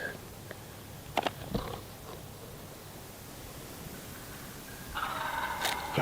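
Wild turkeys calling in the woods during a hunt, with a couple of sharp call bursts early and a louder, busier stretch of calling near the end, set against steady outdoor background hiss.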